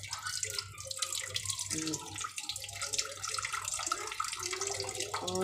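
A household tap runs at low flow, giving a thin, steady trickle of water that continues throughout at moderate volume, with a faint voice briefly audible.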